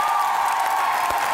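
A studio audience applauds Kamran Khan's entrance on a comedy show, a brief, even wash of clapping at constant loudness with a faint sustained tone beneath.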